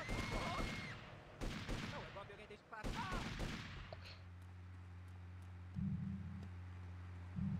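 Gunfire in GTA 3 The Definitive Edition: a cluster of sharp, loud shot bursts in the first three seconds, then quieter with a steady droning game tone underneath.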